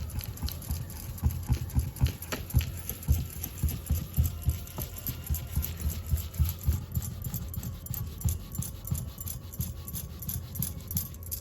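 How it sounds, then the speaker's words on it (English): A brush rolls and scrubs in firm circular strokes to lift ink, producing soft repeated rubbing pulses in a steady, close rhythm that continues throughout, with no talking. "I wanna press really hard and roll over this with my brush. Nice circular strokes"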